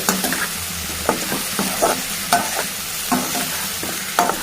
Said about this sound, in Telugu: ఇలా బాగా కలుపుకోవాలి